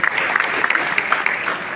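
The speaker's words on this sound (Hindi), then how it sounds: "मैं चाहूँगा कि आप इनके आशीर्वाद स्वरूप अपनी तालियां प्रकट करें" Audience at a memorial event clapping, a short burst of fairly dense applause heard from a moderate distance.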